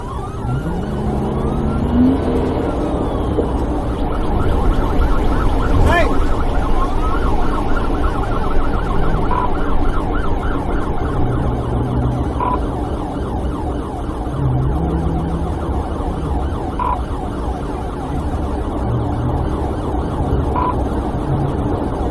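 Police car sirens wail loudly and continuously during a high-speed chase, with rising and falling tones over a steady roar of engine and road noise.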